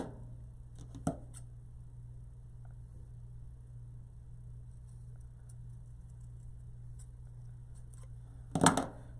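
Scissors snip through paper to cut out a leaf shape for a patriotic terra cotta pot craft: two brief, crisp cuts, one early and one near the end, over a steady low hum with no talking.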